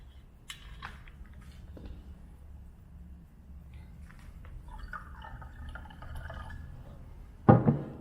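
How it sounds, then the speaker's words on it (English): Beer poured from an opened bottle into a glass for a homemade lite beer, about 12 ounces, a soft steady trickle and drip at close range building toward a brief louder splash near the end. "we're gonna pour about 12 ounces in that glass"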